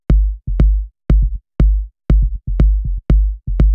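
Kick drum pattern in music production, duplicated and transposed down, booming deep hits in a syncopated rhythm with short softer kicks tucked in between the main ones, loud, dry and alone.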